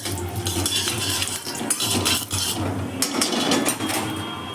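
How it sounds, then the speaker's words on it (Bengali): Dried red chillies and mustard seeds for roselle fruit chutney are stirred in a hot pan, giving close, busy scraping and clinking of a utensil against metal over a light sizzle. "একটু নেড়ে নেবো"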